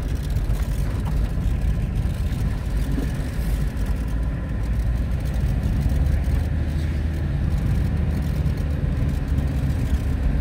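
Peugeot 404 pickup with a tipper bed, its engine running at a steady, continuous drone close by, with no voices.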